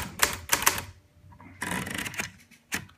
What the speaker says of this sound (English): This is a Hermes Media 3 typewriter